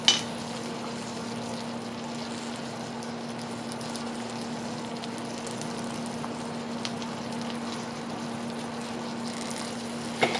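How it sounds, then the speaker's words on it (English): Sugar sizzles in a hot iron skillet taken off the heat, making a steady, even crackling hiss that holds at the same level throughout, with a faint low hum under it. "hear my sugar sizzling?"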